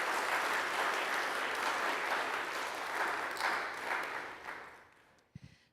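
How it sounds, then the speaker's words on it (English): A round of applause at an annual meeting honoring those recognized, steady dense clapping from an audience that holds for about five seconds, then dies away with a couple of last claps. "We can have one last round of applause to honor everyone recognized today for all their efforts"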